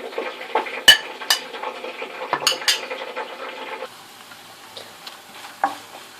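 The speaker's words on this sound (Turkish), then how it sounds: "Ve kıymamızı ilave edip bunu e, ocakta kavuracağız arkadaşlar." Minced meat fries in a pan and is stirred with a utensil, giving scraping clinks and knocks against the pan over a soft sizzle. The stirring grows quieter and sparser toward the end.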